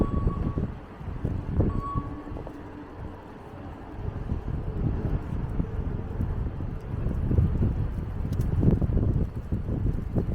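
Strong gusts of wind buffet the microphone during a walk through snowy downtown Boston, a loud, rumbling roar that swells and eases unevenly, with faint street sounds underneath.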